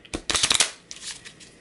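Quick riffling burst of cards being shuffled, a rapid flutter of snaps, then a softer second ruffle trailing off, close and clear with no talking.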